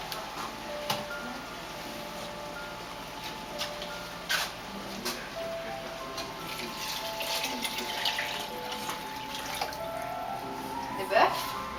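Beef broth is poured into a pot of onion soup, a soft, continuous liquid splash with a few light clinks of utensils against the pot.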